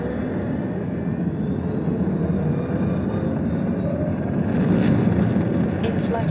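A video game spaceship lifts off in a steady, loud, roaring engine rumble that holds level and swells slightly toward the end, with no clear speech over it.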